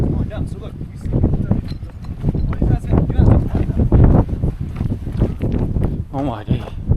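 Strong wind gusts buffet the microphone on the rim of a volcano in El Salvador, a steady loud roar under a voice talking throughout.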